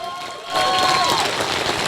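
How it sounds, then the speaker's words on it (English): Applause breaks out at a stand-up comedy show, with broadband clapping swelling in after a brief lead-in as a sustained, crowd-wide wash of hands. A short tonal whistle-like sound sits over the start. "Give him a big round of applause, Adrian."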